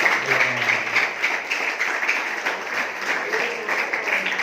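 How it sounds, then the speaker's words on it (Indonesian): Students and guests at an Islamic boarding school clapping for a young ustadz, a dense, lively round of applause with slight swells, close and fairly loud. "Tepuk tangan untuk Ustadz Muhaimin."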